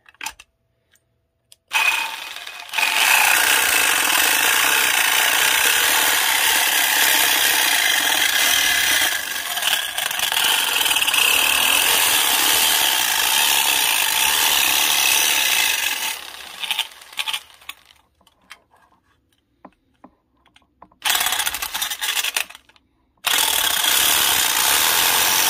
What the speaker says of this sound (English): Our metal jig blade, which is good to go. And we're going to cut a hole.